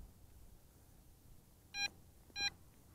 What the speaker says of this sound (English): I'm hearing beeping. That's warning me that my signal from the transmitter is weak.